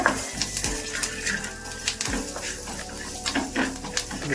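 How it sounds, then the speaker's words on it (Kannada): Black urad dal, asafoetida, curry leaves and cumin fry in a pan for a no-coconut chutney, with steady crackling sizzle and repeated scraping and clinks of a spoon against the pan. "ಸ್ವಲ್ಪ ಕರ್ಬೇವಿನ ಸೊಪ್ಪು, ಸ್ವಲ್ಪ ಜೀರಿಗೆ. ಇಷ್ಟನ್ನು ಫ್ರೈ ಮಾಡ್ಕೊಂಬಿಡೋಣ."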